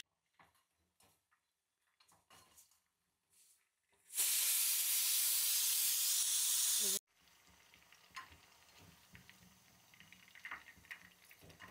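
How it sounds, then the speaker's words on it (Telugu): Prawns frying in hot oil give a loud, steady hiss and sizzle that starts suddenly and cuts off after about three seconds, followed by quieter kitchen clatter and soft sizzling. "ఇదిగోండి ప్రాన్స్ అయితే కొంచెం దోరగా వేపుకుందాం."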